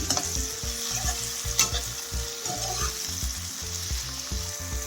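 Okra frying in a pan with a loud, continuous close sizzle and rhythmic spatula scrapes repeating about twice a second, no speech.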